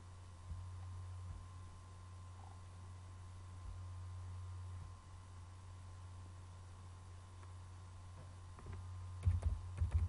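Keyboard keys tapped while entering a command on a computer, soft steady clicks under a constant low electrical hum, with a brief louder burst of typing near the end.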